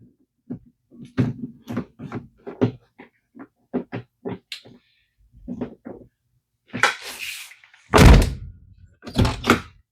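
A car door with a newly replaced handle is opened and shut, ending in two loud, solid slams near the end after a stretch of rapid clicking and mechanical rattles from the door latch, heard up close.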